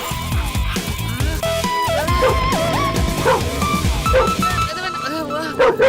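Dogs bark and yip loudly in a Tamil comedy film scene, several sharp barks over music and background noise, with a whimpering tone near the end.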